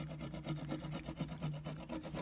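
An IOD transfer is rubbed firmly onto wood furniture, giving a quiet, close, rhythmic scraping and rasping in quick repeated strokes.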